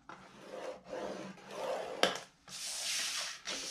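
Paper scored by hand for a DIY file folder with pockets, several rough scraping strokes at close range, each lasting about half a second to a second, with one sharp tap partway through and no talking.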